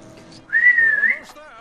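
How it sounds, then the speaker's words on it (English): A single clear whistled note in Lego Dimensions, held for about half a second with a slight waver, over faint background sounds. "Have you tried whistling?"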